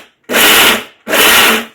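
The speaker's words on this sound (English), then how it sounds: "I want to show this how I'm grinding" A mixer grinder grinds peanuts into a coarse chutney powder in two loud, close pulses of under a second each, separated by a short pause.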